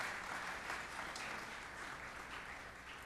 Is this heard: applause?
yes